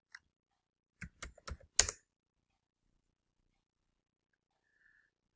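A short burst of typing on a computer keyboard, around half a dozen close, sharp key presses over about a second, followed by near silence.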